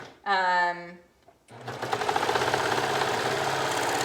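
A domestic sewing machine runs steadily on stretchy jersey fabric, its fast rhythmic mechanical clatter continuing for several seconds after a brief tonal whirring burst and a short pause.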